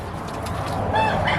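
Free-range chickens clucking near a duck pond, a few soft calls rising over steady outdoor background noise toward the end of a short stretch.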